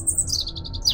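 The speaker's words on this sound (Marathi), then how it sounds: "जसे की पक्ष्यांचा किलबिलाट," Birds chirp and twitter in a quiet, remote village: a quick run of high, bright chirps repeating several times in under a second over faint low background noise.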